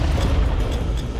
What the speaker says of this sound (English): Another grenade.